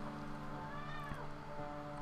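A house cat gives a single drawn-out meow, rising then falling in pitch, fairly faint against a constant humming background.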